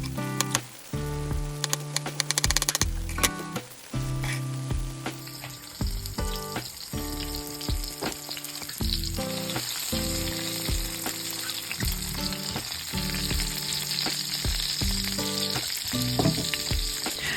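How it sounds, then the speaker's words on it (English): Onions, tomatoes and mushrooms sizzle steadily in a hot pan, a constant crackling hiss with occasional stirring clatter, close and fairly loud throughout. "now we start frying the onions, tomatoes and mushrooms"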